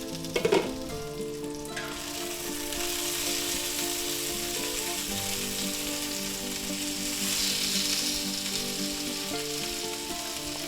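Vienna sausages sizzle steadily in a covered pan for a stir fry, a dense, continuous frying hiss at close range with a brief clatter at the start and no talking.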